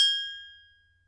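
A single bright notification bell ding rings out alone with a clean metallic tone, then fades smoothly into silence over about a second.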